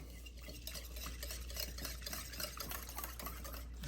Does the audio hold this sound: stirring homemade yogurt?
yes